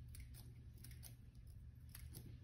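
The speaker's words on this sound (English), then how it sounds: "If I fold this in half, and then cut, I'm going to cut two at once and get through it faster" Scissors cutting through folded paper for a mosaic snowflake: a steady run of quick, soft snips close by, faint and regular, with no talking.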